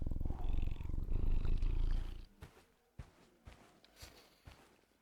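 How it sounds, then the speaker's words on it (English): A cat in The Radio Tower Game purrs loudly and closely while being petted for about two seconds, then stops, leaving quieter scattered footsteps and clicks. "Oh, I can pet the cat."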